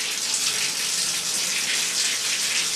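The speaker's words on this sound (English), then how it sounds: "the water is running real nice" Very hot tap water pours steadily into a bathtub while the tub drain is being cleared, a continuous close, loud rushing splash with no talking over it.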